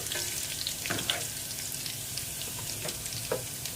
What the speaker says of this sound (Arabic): اهو اول ما الثوم يبتدي يديك اللون هنزل عليه بخل.